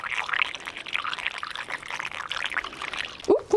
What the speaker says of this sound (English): Let's pour it in.